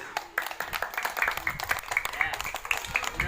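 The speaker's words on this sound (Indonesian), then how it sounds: "Ya, boleh kasih tepuk tangan." Schoolchildren in an elementary school classroom clap together after a reading session, quick scattered hand claps in an uneven rhythm, fairly faint, with some talking mixed in.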